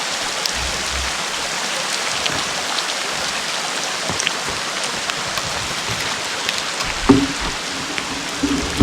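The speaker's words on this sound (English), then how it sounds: "Look, there's a piece of hail right there." Rain mixed with hail falling outdoors at a wilderness campsite in Canada, a dense steady patter of drops on surfaces throughout, with a few sharper nearby hits toward the end.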